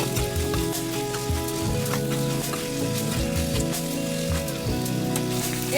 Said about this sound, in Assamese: মাংসখিনি ভালকৈ ভাজি লওঁ